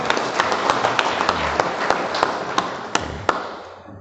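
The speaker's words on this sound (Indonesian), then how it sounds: "Tepuk tangan untuk beliau ini." A lecture audience applauds in a hall, a dense wash of clapping with scattered sharper claps that tails off toward the end; no talking.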